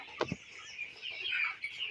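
A flock of 24-day-old broiler chicks on a poultry farm, sending up a steady mass of high, overlapping peeps and chirps with one or two louder near calls, no talking.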